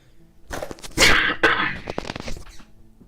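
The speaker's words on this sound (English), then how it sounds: "So so I'm just going to cover the microphone when I need to cough my guts out like that again." A burst of harsh, explosive coughing from one person close to the microphone, several loud hacking bursts in quick succession that tail off into smaller coughs.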